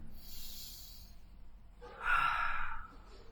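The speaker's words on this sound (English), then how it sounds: "Again, big breath." Children breathe in deeply during a stretching exercise, a soft breathy inhale followed by a louder, fuller intake of breath near the middle, close and without talk.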